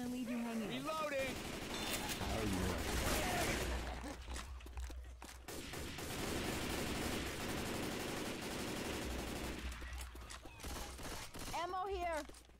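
Rapid bursts of video game gunfire crackle through a cooperative zombie shooter session, sustained and loud across most of the stretch, with brief pauses, while players shout to each other over it.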